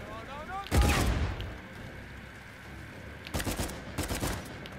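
Gunfire in the Uncharted 4 video game: a loud burst of shots near the start, then two shorter volleys of rapid fire later, over a steady background hum with faint tonal game sounds.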